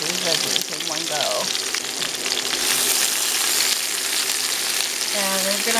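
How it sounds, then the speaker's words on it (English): Vegetables for beef fajitas fry in hot oil in a skillet, giving a loud, continuous sizzle with occasional stirring close by and no talking. "oil is sizzling, so we're going to add in the veggies"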